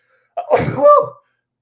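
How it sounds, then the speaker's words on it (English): A single sharp sneeze bursts out close by, brief and loud, then silence. "I'm about to sneeze."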